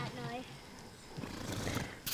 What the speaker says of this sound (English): That was the horse going.